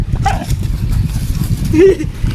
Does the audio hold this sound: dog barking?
yes